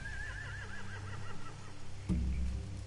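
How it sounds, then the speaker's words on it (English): A horse whinnies in The Walking Dead video game, a wavering high neigh that rises and falls for about a second and a half, followed by a soft thud and low background ambience. "They have horses."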